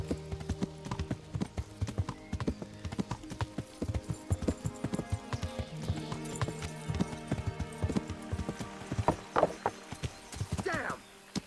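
Rapid hoofbeats clatter in a galloping rhythm throughout in the game Kingdom Come: Deliverance, loud and close, with a horse's neigh near the end.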